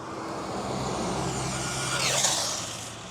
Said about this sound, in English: A lot of cars around here. I should have picked a quieter spot.